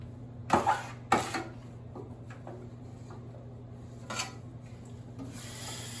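A drywall corner tool smooths joint mud along a corner with a few quiet scraping strokes, close but faint, over a low steady background hum.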